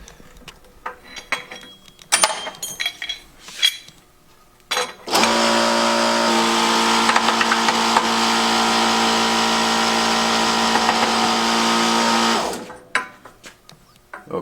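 A shop press forcing bearing races out of engine connecting rods: scattered clicks and knocks, then a loud, steady hydraulic motor whine for about seven seconds before it cuts off to more handling clatter.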